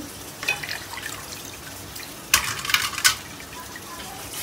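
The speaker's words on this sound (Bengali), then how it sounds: "মাছ ধোয়া হয়ে গেছে।" Tap water runs over pieces of hilsa and pangas fish as they are rinsed in a kitchen sink, a soft steady trickle with several louder splashy bursts near the middle.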